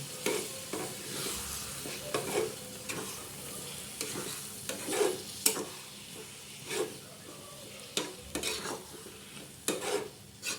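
Spices sauté in a pan for a dried javla (tiny shrimp) dish, making a soft steady sizzle broken by repeated scraping stirs of a spoon, fairly quiet and close, with no talking.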